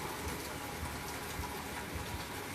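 Steady rain falls on a day with a chance of lightning, a dense even hiss of droplets filling the whole clip with soft low thumps beneath, continuous and fairly close, with no voices.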